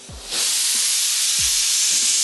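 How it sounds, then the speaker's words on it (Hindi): Loud, steady sizzling of onions hitting hot oil, a dense hiss that swells quickly and then holds, with a few soft low thumps underneath. "हमने यहाँ पे थोड़ा ऑयल लिया है and we'll put some onion"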